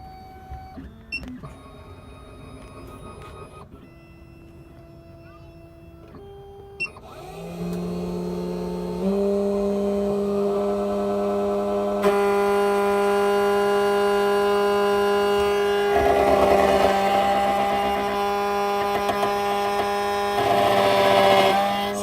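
A key cutting machine whirs up and grinds steadily as it cuts a key, starting with a few clicks and quiet stretches before a loud sustained motor drone with a rising, harsher cutting tone.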